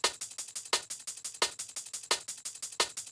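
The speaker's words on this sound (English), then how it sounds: "There is the Supreme break." A Supreme drum break sample for a liquid drum and bass track runs at a brisk, regular rhythm, with crisp snare-like hits recurring among lighter ticks; fairly quiet and alone, with no voices.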